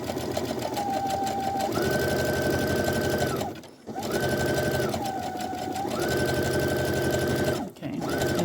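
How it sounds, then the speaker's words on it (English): A sewing machine stitches a reinforcing seam on scrap fabric for pajama pants, sewn slowly. It makes a steady close mechanical whir with a changing pitch and two brief stops partway through. "I'll actually reinforce the seam and seam right over it again to give 2 threads, 2 seams"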